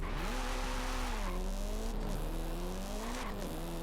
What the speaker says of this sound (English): This engine is really loud.